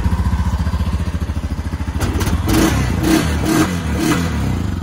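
2022 Honda Rubicon ATV engine starting up close, a loud pulsing idle that gives way to several short revs toward the end.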